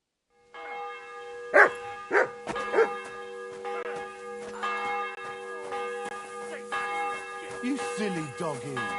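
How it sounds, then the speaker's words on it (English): In the video game Kingdom Come 2, a dog gives several sharp barks over a backdrop of ringing church bells and melodic tones, the barks loud and close near the start and then fainter. "You silly doggy."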